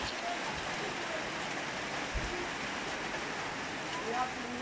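Children imitate a summer rain shower, producing a steady, soft pattering hiss like falling rain that holds evenly throughout at low level.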